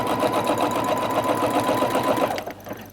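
A sewing machine runs at a steady rapid pace while stitching a feather quilting pattern along a ruler, then stops near the end.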